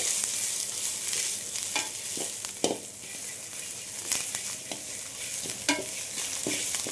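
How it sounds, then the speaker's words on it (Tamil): Curry leaves fry in a pan for garlic curry, giving a steady close sizzle with scattered scraping stir clicks throughout and no talking. "கருவேப்பிலையும் போட்டேன், ஆனால் இங்கே நின்று தான் வறுக்க முடியல என்னால்"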